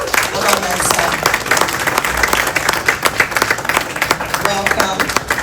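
An audience claps loudly and continuously for a guest walking on stage at a live talk event, a dense, close wash of applause with a voice briefly heard over it.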